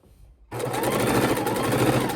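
A sewing machine stitches scrappy quilt pieces together, starting abruptly after a brief quiet moment and then running as a steady, fast, loud mechanical whir with a constant rhythmic hum.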